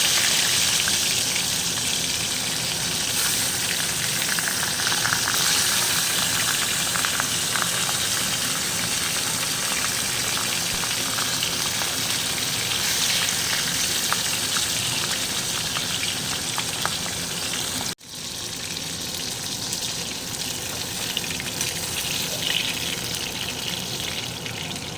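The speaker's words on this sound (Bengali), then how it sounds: "এই তেলেই পরের মাছগুলো একইভাবে ভেজে নিচ্ছি।" Bhetki fish pieces frying in hot oil, a loud, continuous sizzle and crackle that runs without a break, dipping briefly once, with no talking.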